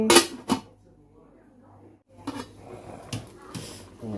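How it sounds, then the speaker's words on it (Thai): A lid is set onto a pot of boiling jackfruit, two sharp metallic clanks up front, then quiet bubbling before someone talks over further light clatter. "ต้มทิ้งไว้ ปิดฝาครับ"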